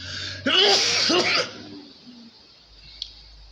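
A single sharp sneeze bursts out close by, followed by a quieter trailing breath and faint room noise.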